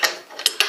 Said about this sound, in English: Now we'll back our castle nut off.